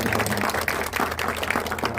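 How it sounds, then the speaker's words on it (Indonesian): An audience applauds a guest at an event for the film Gaza, loud, close and steady clapping with a rhythmic, slightly uneven texture and some voices underneath. "Tepuk tangan buat Arafah Ariyanti."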